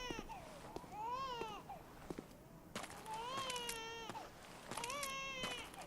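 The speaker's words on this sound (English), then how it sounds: "Can you hear it? The baby crying?" Baby wailing in the video game Bloodborne, in the area of Mergo's Wet Nurse, repeated rising and falling cries in several bursts, fairly faint and echoing.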